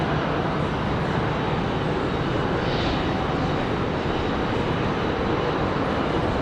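Delta Airbus A319 jet arriving at Raleigh-Durham airport, a steady broadband engine roar with a faint rising whine partway through, moderately distant and uninterrupted by talk.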